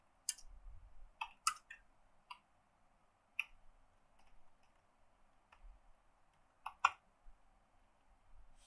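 Sparse, irregular keyboard clicks from someone typing Python code, with scattered single key taps and brief bursts separated by pauses, close and fairly quiet.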